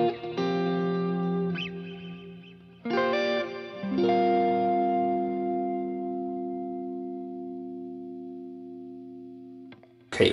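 Electric guitar with a clean lead tone through a Line 6 Helix, playing a few sustained notes that ring out with chorus-like shimmer and reverb, then decay into a long held tone before a final brief attack.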